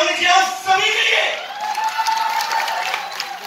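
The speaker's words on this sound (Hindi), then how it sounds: "एक बार जोरदार ताली हमने किया सभी के लिए।" Audience applause and cheering at an Indian Oil (pipeline) corporate cultural event, a dense sustained clatter of many hands, loudest at the start and gradually thinning, with crowd voices and a host's voice mixed in.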